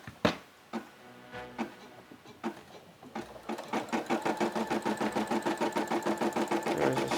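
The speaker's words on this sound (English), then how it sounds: "let's take it back over to the embroidery machine" A Brother SE600 embroidery machine stitches a Nike check design. A few separate clunks come first, then a fast, even run of stitching pulses, close and steady.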